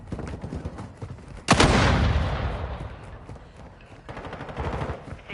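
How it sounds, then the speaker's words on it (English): A sudden loud mortar blast in a video game is followed by a long decaying rumble, with scattered rapid gunfire crackling before it and a second burst of firing near the end. "Hostiles launched a mortar strike."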